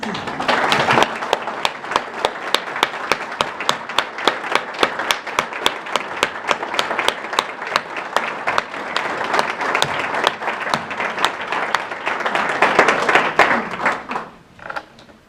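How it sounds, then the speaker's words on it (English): A Unitarian Universalist congregation applauds coming-of-age youth and their mentors, sustained clapping with some sharp individual claps standing out, swelling near the end before stopping. "Let's give them a round of applause"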